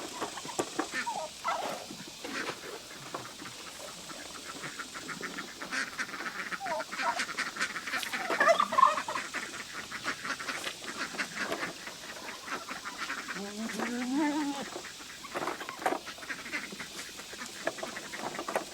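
Scattered quacking and gabbling of poultry, ducks mixed with other fowl, nearby and intermittent over an outdoor background.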